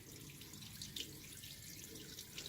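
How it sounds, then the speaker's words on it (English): Water runs steadily as a hot tub with a leak is drained, a continuous faint broadband rush with no breaks. "I gotta let all that water out."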